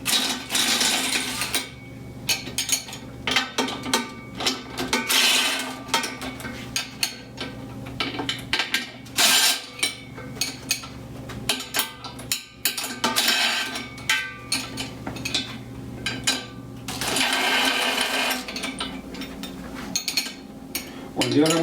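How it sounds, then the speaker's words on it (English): An impact drill loosening the top lid bolts of a Vent-Tech SWG-B unit, with repeated loud metallic rattling bursts in sustained runs and short pauses, mixed with clinking of metal parts. "The first one to do is just untighten the bolts, top, taking the lid off."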